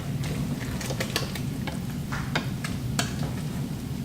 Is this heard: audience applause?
no